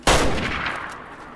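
A single loud .30-06 rifle shot cracks in Way of the Hunter, set in a Scandinavian hunt, with a sharp close report followed by a rolling echo that fades over about a second.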